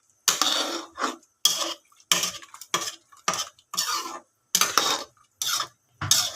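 A utensil stirring sautéed fried fish with calamansi in a pan, scraping strokes in short irregular bursts, close and clear, with soft sizzling between strokes.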